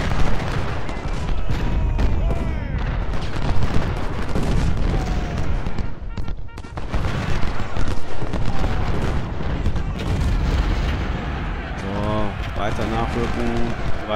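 Constant battle noise from the Ultimate General: Civil War video game, a Union fight at South Mountain, with gunfire crackles and heavy booms layered into a dense roar. Someone talks over the battle throughout.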